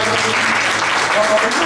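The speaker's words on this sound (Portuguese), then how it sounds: "Palmas para a guitarra, palmas para o vinho." Audience clapping at a charity dinner for children in Guinea, a steady dense burst of applause right from the start, with a sung or spoken voice carrying over it.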